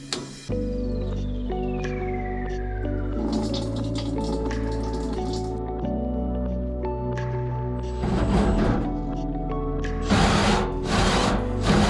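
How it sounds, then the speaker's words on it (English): A power drill grinds steadily into stainless steel, its motor droning with shifting pitch, the noise growing rougher and harsher toward the end. "drilling a hole in stainless is a pain in the behind"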